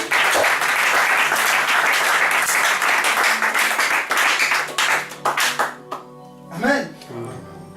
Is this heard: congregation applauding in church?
yes